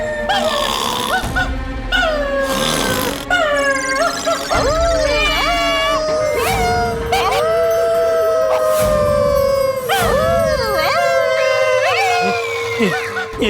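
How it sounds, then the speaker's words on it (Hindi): A dog howls in long, wavering, siren-like wails, repeated several times with short breaks over about thirteen seconds, loud and close, with no speech over it. "घर में कुत्ता भी है।"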